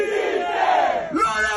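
A stadium-style crowd chant for Napoli captain Lorenzo Insigne at his celebration party, with many voices shouting his name together loudly and close in one sustained, rising call.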